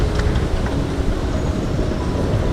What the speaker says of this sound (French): Je suis excité à l'idée de prendre le métro